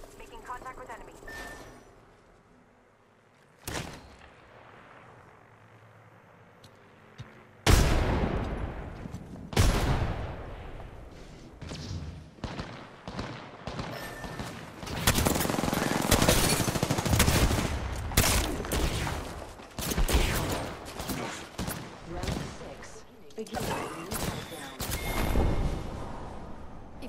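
Gunfire in the battle royale game Apex Legends: a quiet stretch with a few isolated shots gives way to dense, loud bursts of rapid automatic fire and impacts that continue almost unbroken to the end, with a voice speaking at times.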